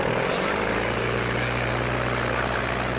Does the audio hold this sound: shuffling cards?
no